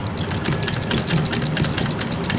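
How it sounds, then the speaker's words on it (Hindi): A sewing machine runs steadily, stitching piping along the slit of a kurti, with a continuous even motor whir and needle chatter throughout, close and fairly loud. "और स्टिचिंग शुरू करते हैं।"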